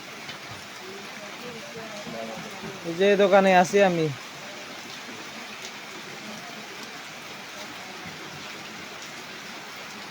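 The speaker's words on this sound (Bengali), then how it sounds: "বৃষ্টি চলতেছে" Steady rain falls outside a shop, a constant broadband hiss running through the whole stretch, with someone talking briefly near the middle.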